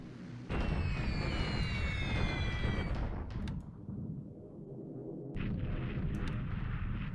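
Bombing raid explosions on Bandung in the War in the Pacific strategy game: heavy, rumbling blasts roll on continuously, with a harsh burst around one to three seconds, a brief lull, then renewed booming.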